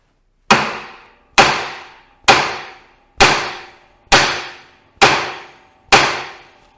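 Seven loud, evenly spaced hammer blows ring out on the kingpin of a Massey Ferguson tractor's front axle, each a sharp metallic strike that decays quickly, close up with no talking.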